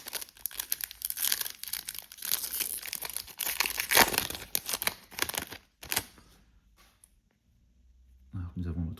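Topps Chrome NFL blaster box packs being torn open, with dense crinkling and ripping of foil wrappers for several seconds, then a pause and a low rustle as cards are handled; a voice speaks intermittently.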